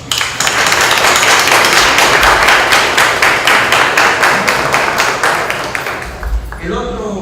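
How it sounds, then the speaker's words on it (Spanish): An audience at a literary discussion panel at Centro León applauds loudly. Dense, sustained clapping fills the room, then thins out and tapers off toward the end. "Quisiera dar un aplauso."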